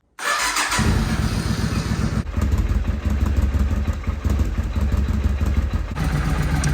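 A 2003 Suzuki Intruder 800 motorcycle cranks and fires up abruptly, then settles into a loud, steady, close-up idle with a lumpy rhythmic throb throughout.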